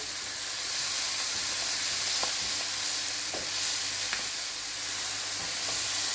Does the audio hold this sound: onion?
yes